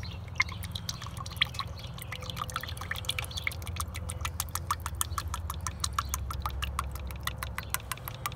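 Water drips steadily from leaks in an outdoor system in rapid, irregular ticks, close by, over a low continuous motor-like hum.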